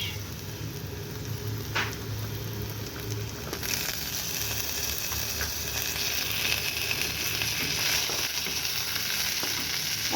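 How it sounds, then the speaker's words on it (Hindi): Garlic cloves and green chilies frying in hot oil in a pan give a loud, continuous sizzle and crackle with occasional stirring scrapes, close up and without talk. "और लहसुन के साथ साथ ही डाल देंगे हरी मिर्च।"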